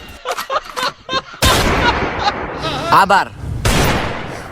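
Gunshots in a comedic Bengali skit: a few sharp, loud bursts cut through busy shouting and talk, with a cluster of blasts near the middle and another near the end.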